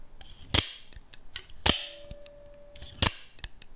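A Cold Steel Broken Skull folding knife's mechanism snaps open or shut with sharp cap-gun-like cracks, three loud close reports with softer clicks between, and a faint brief ringing tone after the second.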